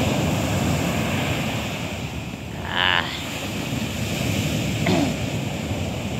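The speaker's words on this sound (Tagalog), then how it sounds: "ang lalaki ng alon niya." Ocean waves wash onto the beach at Barceloneta in Barcelona, making a steady broadband rush of surf with some wind noise and a brief higher sound midway.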